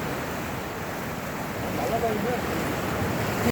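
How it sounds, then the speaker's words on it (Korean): Sea water laps against a rocky shore at high tide on Gapado island off Jeju, a continuous, moderately loud wash of water with wind noise and no clear separate splashes. "지금 만조 시간이라 이렇게 물 뭐 찰랑찰랑한 상황이고요."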